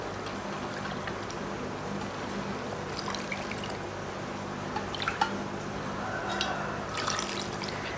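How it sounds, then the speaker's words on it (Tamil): Coconut milk is poured into moong dal payasam on a low flame, giving a soft, continuous liquid trickle and gentle dripping with a few light splashes, close and steady throughout. "இப்போது தேங்காய் பால் சேர்த்துடலாம்."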